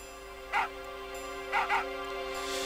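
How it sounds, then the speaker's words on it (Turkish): A dog barking in Final Fantasy VIII: one sharp bark, then a quick double bark a second later, standing clearly above a steady musical background. "Ve köpek havlayarak"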